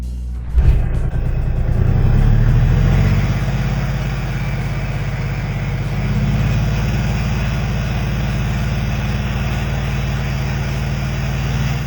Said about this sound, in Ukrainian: А ви знаєте, як звучить мотор українського БТР-4Е? Лише послухайте.